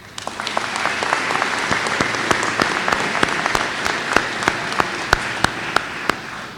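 An audience at a community college commencement applauds graduates with a steady wash of clapping, and individual sharp, close claps ring out regularly above it.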